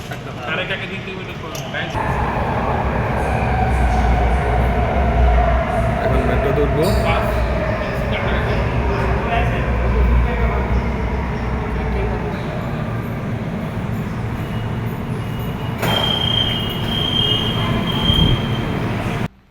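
A Wuhan metro train runs with a loud, steady rumble of wheels on track. High metallic squeals come and go, voices murmur underneath, and the sound cuts off abruptly at the end.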